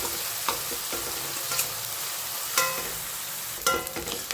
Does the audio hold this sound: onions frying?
yes